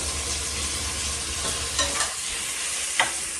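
Ginger garlic paste frying in hot ghee for egg biryani, a steady loud sizzle throughout with a few brief stirring scrapes near the end and no voices.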